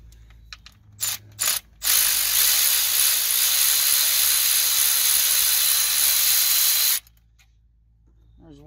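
A 10 mm socket wrench removing thermostat housing bolts on a car: a few short ratcheting clicks, then a long loud steady hiss-like ratcheting run of about five seconds that stops abruptly, close, with no talk.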